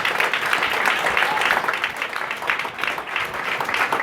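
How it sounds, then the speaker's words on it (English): A crowd applauds coaches, parents and volunteers at a speech event, with a dense, steady wash of clapping that holds for about four seconds, close and fairly loud, with no talk over it. "Y'all give a round of applause for doing the volunteers."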